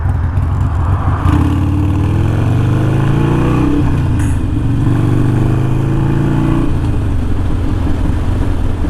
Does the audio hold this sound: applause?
no